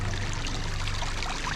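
Water poured and flowing through a sluice box during gold prospecting, a dense continuous rushing splash, close and fairly loud, steady throughout with no voices.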